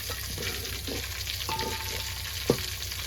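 Cumin seeds crackle and sizzle in hot oil in a pan for a palva fish dish, a constant, fairly loud frying hiss with occasional stirring scrapes and one sharp tap.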